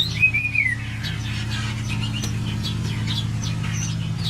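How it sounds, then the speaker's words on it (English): Red-faced liocichla (Liocichla phoenicea) calls in a mountain forest: a clear, close whistled note near the start, followed by scattered fainter chirps and tweets over a steady low hum. "The red-faced Liocichla is an intriguing bird with colorful plumage and distinctive vocalizations."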